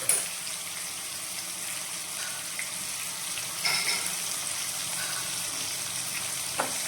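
Tomatoes seasoned with salt and turmeric cook in a pan with a soft, steady sizzle and an occasional stirring scrape, moderately close and without talking.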